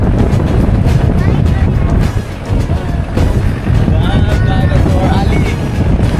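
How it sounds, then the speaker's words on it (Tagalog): Strong wind buffets the microphone on an exposed hilltop overlooking the Pantabangan River, a loud continuous low rumble with gusty swells, while people talk faintly underneath. "Sobrang hangin, ang lamig."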